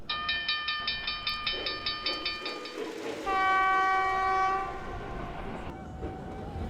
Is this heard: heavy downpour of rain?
no